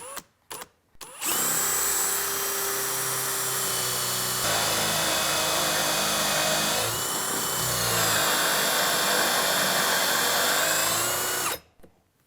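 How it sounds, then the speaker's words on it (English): Power drill boring through a clamped cabinet door jig for a Shaker-style cabinet door, a loud steady whine that runs continuously for about ten seconds with slight pitch shifts, starting and stopping abruptly, no talking. "And then we drill."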